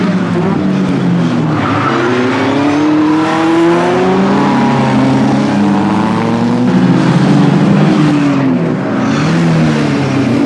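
Westfield SE sports car at a BARC championship race roaring past on track, loud continuous engine note with rising and falling pitch as it passes close by, plus a faint tyre squeal.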